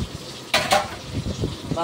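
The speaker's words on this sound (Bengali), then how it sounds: "মাছ ভাজা হচ্ছে" Fish fries in a pan with a close, crackling sizzle that swells in two sharp bursts of spattering before settling into a lower, uneven fry.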